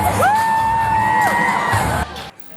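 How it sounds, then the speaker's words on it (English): Parade goers lining a New Orleans street cheer for the 610 Stompers dance troupe, a loud, close whoop rising over a crowd roar before it cuts away. "parade goers lining the streets break into cheers and applause"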